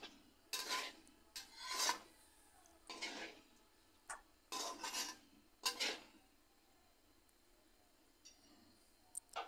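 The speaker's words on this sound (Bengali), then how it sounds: "এভাবে পাস্তাগুলো সবজির সাথে মিশিয়ে নিয়ে কিছুক্ষণ ভেজে নিতে হবে।" Spatula scraping and rubbing through pasta and vegetables in a frying pan, several separate rasping strokes with quiet gaps between them, close and fairly soft, with no talking.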